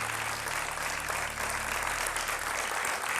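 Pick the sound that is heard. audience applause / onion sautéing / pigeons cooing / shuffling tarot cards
audience applause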